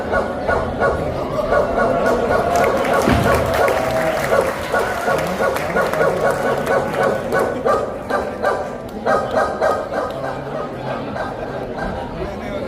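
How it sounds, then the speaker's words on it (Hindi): A pack of hunting dogs barks loudly and steadily in a busy scene, with a dense run of overlapping barks and yips that carries on without a break, and voices and crowd noise mixed in underneath. "इनके ऊपर शिकारी कुत्ते छोड़ दो"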